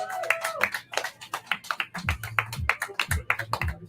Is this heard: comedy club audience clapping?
yes